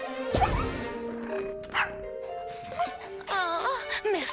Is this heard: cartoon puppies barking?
yes